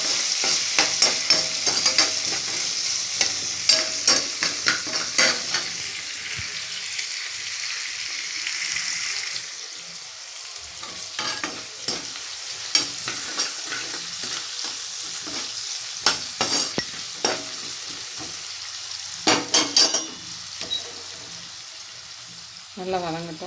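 Amaranth greens sauté in a pan with a continuous sizzling hiss and repeated sharp scraping strokes of a spoon stirring against the metal, with a quieter stretch midway before the stirring picks up again.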